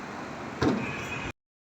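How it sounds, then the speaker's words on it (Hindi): An apartment's front door on a fourth-floor flat gives one close clunk of the latch, followed by a short rattling swing before the sound cuts off abruptly. "खोलते हैं अपना दरवाज़ा।"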